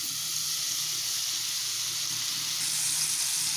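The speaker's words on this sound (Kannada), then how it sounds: "ತುಪ್ಪ ಬಿಸಿ ಆದಮೇಲೆ ನಾನು ಬಾಳೆಹಣ್ಣನ್ನು ಸೇರಿಸ್ಕೊಳ್ತಾ ಇದ್ದೀನಿ" Banana slices dropped into hot ghee in a pan, giving a steady, loud, continuous sizzle and bubbling close up, without any speech.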